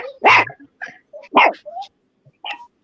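A small dog yips and barks in several short sharp bursts with quiet gaps between, close and clear, in an otherwise silent indoor setting.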